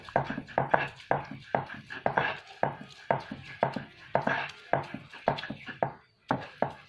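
Spices for Acehnese asam keueng are mashed by hand, giving a rapid, regular run of close, soft thuds and grinding strokes with no talk.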